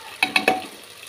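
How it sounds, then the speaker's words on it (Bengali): Ground spices, salt and Kashmiri chilli powder hit a hot pan of fried ginger-garlic paste, three quick sharp sizzling bursts close up that then settle into a faint steady frying hiss. "এবার দিয়ে দেবো মশলাগুলো,"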